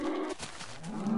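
Cows mooing in the Minecraft video game, two drawn-out low moos one after another, clear and moderately loud with no talk over them.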